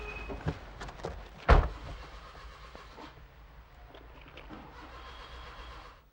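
A car engine cranking but failing to start, heard as a rough mechanical churning with a sharp clunk early on, followed by a low rumbling drone that stays moderately loud and close.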